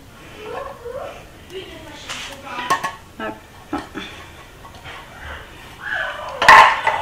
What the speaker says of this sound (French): Et là, dans la poêle, je vais mettre les haricots rouges,